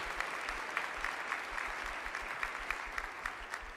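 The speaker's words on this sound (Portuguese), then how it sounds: "Pode aplaudir, todo dia" A congregation at a church service claps steadily, a fairly quiet and even wash of hand claps with faint low rhythmic thumps underneath throughout the short stretch.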